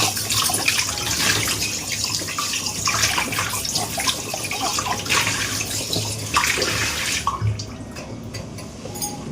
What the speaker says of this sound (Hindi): अब मैं इसके पॉट को ना अच्छे से, मतलब इस स्क्रब लगा के ऐसे क्लीन कर देती हूँ।